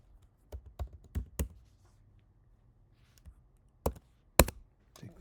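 Keystrokes on a computer keyboard, a few quick clicks in short bursts separated by quiet pauses, close and fairly soft with no talking.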